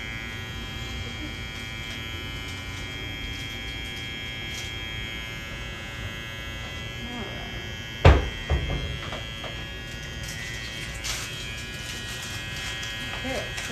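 Electric hair clippers cutting a man's hair buzz steadily and close throughout, with a couple of brief thunks partway through and faint talk in the background.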